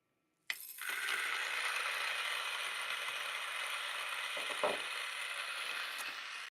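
An Option-O Lagom P64 coffee grinder with 64mm burrs starts sharply and runs at mid speed, a steady close whirring hum with faint rattling of beans as they grind, then cuts off.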